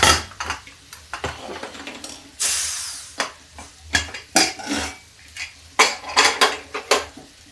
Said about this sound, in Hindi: कुकर खोलते हैं।